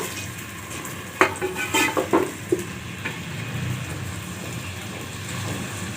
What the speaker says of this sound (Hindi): यहाँ लहसुन अदरक भून गया 1 मिनट में